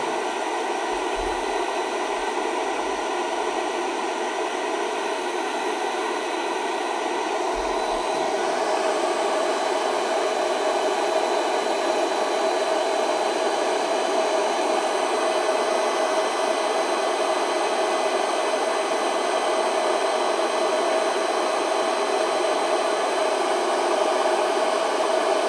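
A 1500W magnetic induction heater heating a rusty nut and bolt gives a steady, even hiss and hum that holds for the whole stretch, close and constant with no talking over it.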